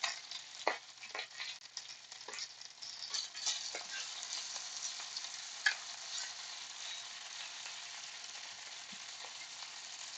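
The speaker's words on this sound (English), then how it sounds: "Just give them a nice little saute there." Kale sautés in a pan with a soft, continuous sizzle, broken by occasional light clicks and scrapes of stirring.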